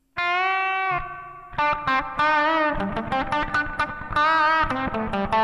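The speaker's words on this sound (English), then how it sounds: "something that's supposed to emulate a spring reverb" Electric guitar playing a run of chords and single notes drenched in springy, splashy reverb from a Zoom G1 effects unit's spring reverb emulation, loud and up close with no talking.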